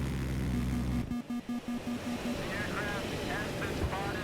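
An F-35 jet engine in the Battlefield 3 video game, Gulf of Oman map, roars loud and close with a rushing drone. A brief pulsing beep rises over it and fainter whooshes follow.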